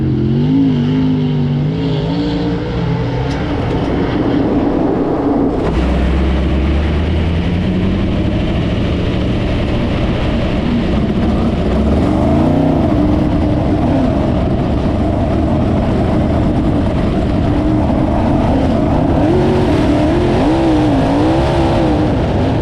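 A sprint race car engine roars during qualifying, loud and close, rising and falling as it revs hard and climbs through repeated high-pitched pulls for the whole stretch, with no talk.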